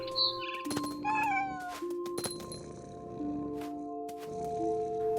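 Repeated cat meows in What Remains of Edith Finch come in short bursts across several seconds, mixed with clinking game sounds and a soft ambient bed, with nobody speaking.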